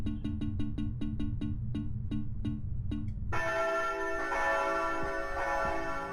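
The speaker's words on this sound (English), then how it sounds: "how do I ring the bell?" Bell ringing in the video game Castlevania: Lament of Innocence: a rapid series of bright chimes that slows and spaces out, then gives way to a sustained shimmering bell tone with a dense ringing wash, no talk.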